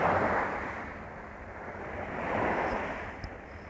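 Sea waves surge and wash close by at Tai Mei Tuk, a broad hiss that swells and ebbs softly, with no voices.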